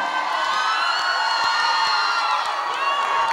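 Girls' contest crowd at an indoor event, with fans and young participants cheering, shouting and whooping together in a loud, continuous roar that stays steady throughout, and no clear single voice rising above it.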